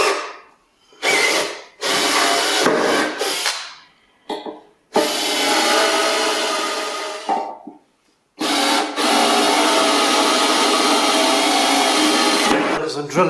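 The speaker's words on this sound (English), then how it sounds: "As I'm drilling out the stud, or the broken bolt," A power drill grinds through metal drilling out a broken bolt in several long bursts, loud and close, with short pauses between runs and a voice speaking briefly between them.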